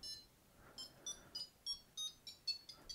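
Short electronic beeps from the buzzer of an M5Stack M5Dial ESP32 device sound in a quick irregular series, fairly faint and high-pitched against a quiet background, with no voices.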